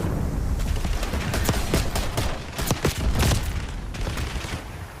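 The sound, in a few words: gunfire in a video game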